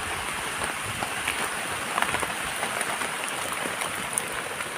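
Rain falling in a forest during mushroom picking, a dense, steady hiss of drops on leaves and ground with scattered closer pattering throughout.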